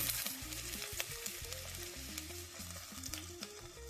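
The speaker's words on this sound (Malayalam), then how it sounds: "ആദ്യമായിട്ട് നമ്മൾ വെളിച്ചെണ്ണയിലോട്ട് ഉലുവയാണ് ഇടുന്നത്. അതിനുശേഷം നമ്മൾ നേരത്തെ തയ്യാറാക്കി വെച്ച വെളുത്തുള്ളി, ഇഞ്ചി," Fenugreek seeds, garlic and ginger hiss and crackle in hot coconut oil for a Kerala sardine curry, a constant close sizzle over a low background melody, with no talking.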